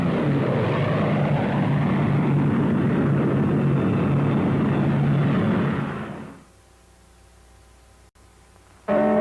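Lockheed Lightning aircraft flying, a steady loud propeller engine drone that fades out abruptly after about six seconds into near silence, with a brief burst of sound at the very end.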